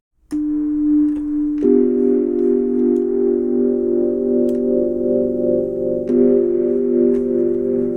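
Sustained synthesizer chord tones in Reason 13 with default stereo imaging, steady and full, shifting pitch a couple of times with faint clicks at the changes, alone and close.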